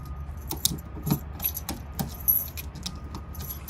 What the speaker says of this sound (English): so we're just going to grab another set of keys